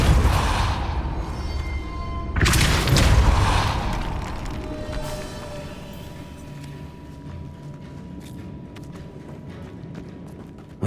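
Spells in the Hogwarts Legacy video game crack and boom in bursts, with a loud blast early on and smaller impacts and whooshes after it over a background game score.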